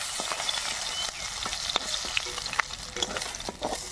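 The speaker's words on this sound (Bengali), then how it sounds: "বাকি মাছগুলো ভাজা হয়ে গেছে।" Pieces of mrigal fish fry in hot oil with a continuous close sizzle, punctuated by sharp pops and the scrape of a spatula stirring the pan.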